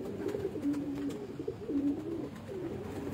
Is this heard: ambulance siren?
no